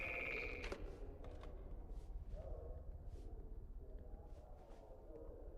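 A telephone rings briefly at the start inside the video game Fallout London, a short electronic trill followed by low game ambience and scattered soft clicks.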